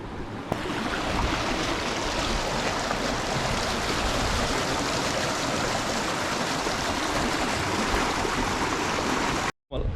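Flowing stream water rushes steadily and loudly close by, a dense continuous roar that drops out briefly just before the end.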